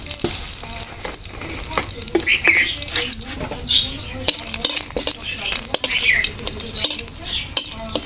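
Bay leaf frying in hot mustard oil in a kadai: a steady sizzle with a spoon scraping and stirring, occasional metallic clinks against the pan, and a voice faintly in the background.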